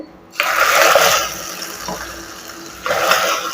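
Hot tempering poured into taro root sambar in a pot makes a loud, close rushing hiss that starts suddenly, eases off, then surges again near the end, with nobody talking.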